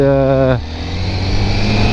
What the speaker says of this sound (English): that sound coming from the Akrapovic exhaust, which is quite impressive